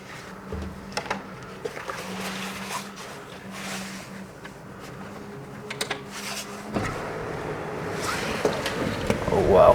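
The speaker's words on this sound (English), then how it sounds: "What a wind, but it's beautiful." Strong wind buffets an abandoned seaside resort balcony in Miami Beach, a steady roaring rush that grows louder toward the end, with gusts, a faint repeating beep and people talking.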